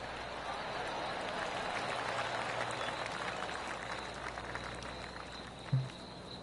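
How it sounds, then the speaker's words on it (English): Polite golf clap from a gallery in the PGA Tour 2K23 video game at Echo Park Golf Club, a soft steady patter of scattered applause under ambient course noise, ending with a brief thud. "Oh, golf clap."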